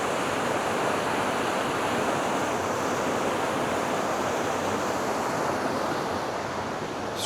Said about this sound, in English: So you've got the waterfall down there.